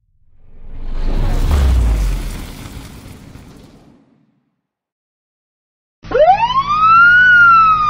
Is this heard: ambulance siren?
yes